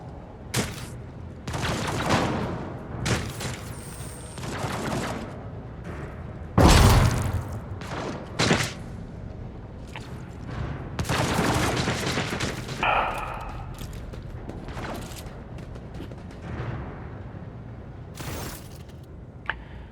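Scattered gunshots and booming volleys in the Warhammer 40,000 game Rogue Trader, irregular bursts with a couple of sharp heavier blasts over a steady battle din, no talk.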